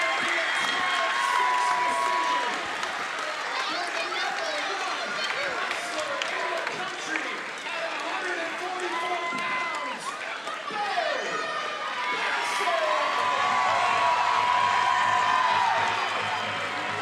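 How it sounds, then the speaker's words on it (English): An arena crowd at a youth wrestling match roars and cheers loudly and steadily on its feet, with whistles, shouts and rhythmic chanting swelling near the end; no clear talk stands out above the din. "and the crowd's on its feet"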